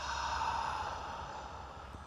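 A slow, deep breath is let out during a seated yoga flow for shoulders and spine. It comes as one soft, airy, continuous exhale, close and quiet, fading gently toward the end.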